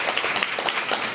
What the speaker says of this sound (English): Give Mayor Bowser a big round of applause.